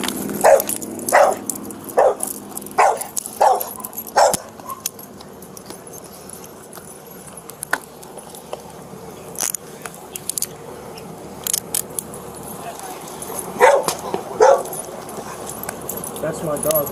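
A stressed dog barks in a quick run of sharp barks early on, then barks again near the end, during a police stop beside a car, with people talking throughout.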